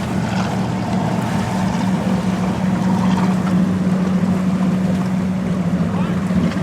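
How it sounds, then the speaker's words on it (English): A 1947 Chris-Craft motorboat with a 115-horsepower Chrysler engine runs at a classic boat show, its loud, steady low engine drone rumbling continuously amid water and wind noise. "Mr. White is a 1947 Chris Craft, has a 115 horsepower Chrysler"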